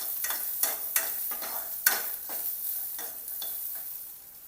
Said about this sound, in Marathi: आता अद्रक लसूण आपण याच्यामध्ये परत परतून घेऊया तेलामध्ये